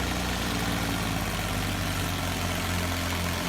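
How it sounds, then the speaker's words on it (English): Several tractor engines labor steadily under heavy load as they drag an overloaded trailer, a loud, continuous low rumble and drone with no break across the whole stretch. "they've just added another tractor"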